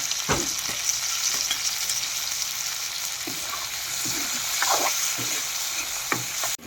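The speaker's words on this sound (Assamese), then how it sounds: "এই বিলাহীটো দিলোঁ আৰু বিলাহীটো আগতে ভাজি লওঁ আলুৰ লগতে" Steady sizzling of potato, tomato and ridge gourd frying in a pan, with occasional stirring scrapes and clinks throughout, no voices.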